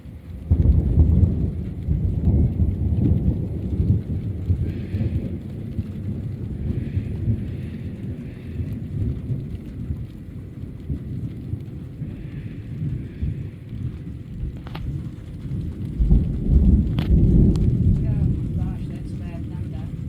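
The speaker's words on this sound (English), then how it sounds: "that's some thunder too to go with the lightning" Low rumbling thunder rolls over steady rain during a storm with lightning, with a couple of louder booms and occasional sharp crackles, no talking.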